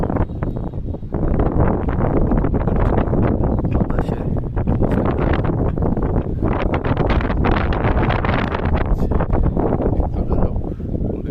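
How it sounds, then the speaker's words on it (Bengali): Strong wind blows across a rooftop garden with bitter gourd vines, making loud continuous buffeting and roaring against the microphone with rustling throughout and no talking. "প্রচন্ড বাতাসে রাখতে পারছি না।"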